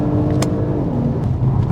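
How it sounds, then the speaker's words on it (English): Steady engine drone from a 2021 Audi SQ5 while driving, a constant low rumble close by with a couple of brief higher whooshes. "engine gives a nice sound to it"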